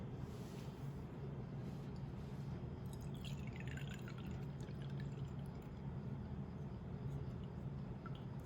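Liquid mixture poured through a muslin cloth during a classroom filtration demonstration, a soft continuous trickle and drip running steadily under faint room noise, close by.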